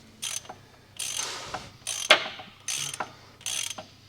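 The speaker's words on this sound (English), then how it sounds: "Drive shaft bolts coming off." A ratchet with an extension works on tight drive shaft bolts on a MK4 car during an engine pull, giving five close, loud bursts of rapid clicking separated by short pauses.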